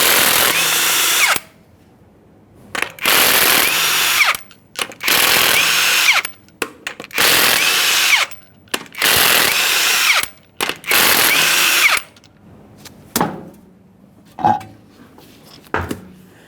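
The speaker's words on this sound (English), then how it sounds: "we're going to remove the wheel by removing all 6 of our 21mm lug nuts" A power impact wrench removes the six 21mm lug nuts from the front wheel of a 2015-2020 Ford F-150, firing in repeated loud, sharp bursts separated by short pauses.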